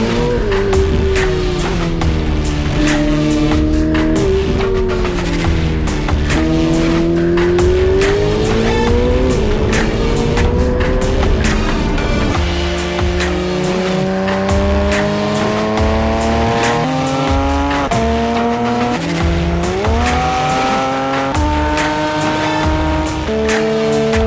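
Race cars, including a Porsche GT3RS and a Ferrari Roma, lap the Rustavi International Autodrome. Engines scream loudly and without a break, pitch climbing and falling through repeated shifts, while tires squeal at times.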